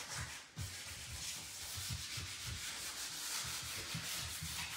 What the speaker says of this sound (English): So I'm probably sanding a little bit more than you need to.